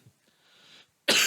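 A lecturer's cough bursts out loud and close at the end, preceded by faint throat noises and quiet breathing.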